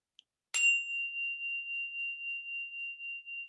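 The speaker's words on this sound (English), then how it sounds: "And with that, I'll ring the bell." One meditation bell is struck once, its clear bright ring starting sharply and then sustaining with a slowly pulsing shimmer as it fades gently in an otherwise silent room.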